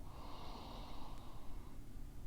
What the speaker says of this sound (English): take a beautiful sniff